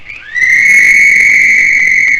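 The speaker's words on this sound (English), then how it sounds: "There's the whistle." A departure whistle blows one long, loud, steady tone with bright overtones, rising in pitch at the start and held for about two seconds before cutting off.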